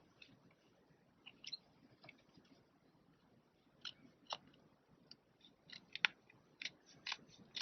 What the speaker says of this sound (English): I'm just going to keep trimming until I like the edge